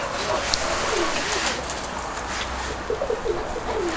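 Pigeons cooing in a windy, snowy outdoor setting, soft repeated coos over a constant broad hiss of wind.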